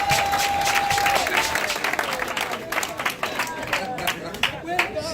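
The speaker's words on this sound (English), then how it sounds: "Let's clap for Ghana." An audience claps together for Ghana, a dense, sustained round of applause that opens over a held tone and gradually thins into scattered, uneven claps, with voices in the background.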